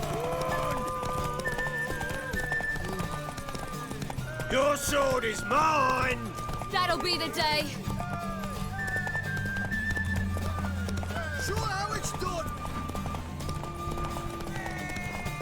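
Galloping hooves pound steadily through a horse race in The Witcher 3, with neighs and game music layered over them while voices trade brief taunts.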